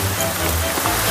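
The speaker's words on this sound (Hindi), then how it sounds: "चारों तरफ बारिश हो रही है" Heavy rain pours steadily all around at a museum in India, a dense continuous wash close to the listener, with a voice faintly mixed under the downpour.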